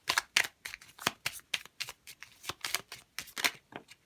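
Starseed oracle cards are shuffled close up in a quick, steady series of crisp riffling flicks, about a dozen bursts in a few seconds, with no talking over them.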